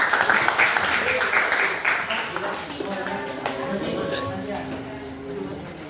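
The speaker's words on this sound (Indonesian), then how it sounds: "Berikan aplaus untuk lomba baru." Applause for a group in a classroom, steady hand clapping from a class mixed with chatter, loudest at the start and tapering off into overlapping voices and room noise.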